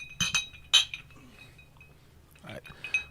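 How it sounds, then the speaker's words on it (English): Glasses clink together in a toast among several men celebrating over whiskey, two bright sharp chinks close up followed by softer clinks a couple of seconds later, with brief voices around them. "Clink, guys. Cheers, gentlemen."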